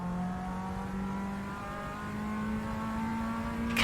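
A race car powering sideways out of a corner in Assetto Corsa, its engine note climbing steadily in pitch as it accelerates, loud and continuous with no talk.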